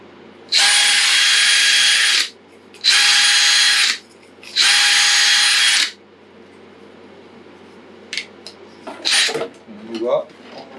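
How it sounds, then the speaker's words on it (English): A power reamer enlarges a 1/8 inch hole in a fishing rod handle during a C6O2 rod build, running in three loud, steady bursts separated by short pauses, with faint clicks and handling noises after. "I'm going to ream it"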